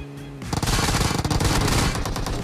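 Shotgun fire in the mobile battle royale game PUBG Mobile, a dense burst of rapid, loud blasts that begins suddenly after a brief low tone and continues without pause.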